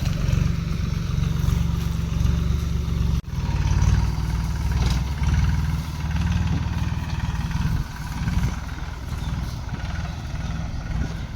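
A farm tractor engine running as the tractor drives back to its parking spot after watering crops, a steady, loud low rumble that continues throughout with a brief dip partway through.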